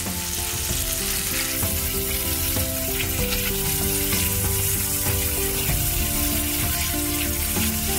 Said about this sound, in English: When it became fragrant, just add your sauce. You want to cook this for about 3 minutes.